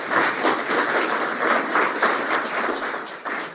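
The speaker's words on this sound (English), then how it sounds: "Let's give him a round of applause for that." Audience applause in a conference room, a round of clapping for a Marine Corps veteran that pulses steadily at moderate loudness and tapers slightly near the end.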